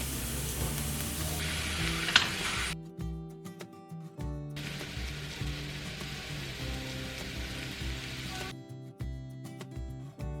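Mustard seeds and curry leaves crackle and sizzle in bursts in hot oil, with a steady spattering that swells and drops off several times.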